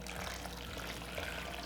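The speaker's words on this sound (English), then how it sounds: "Then I have a couple cups of the cooking water," Cooking water from potatoes and broccoli poured into a blender for a vegan cheese sauce, a brief steady splashing rush of liquid, close and continuous.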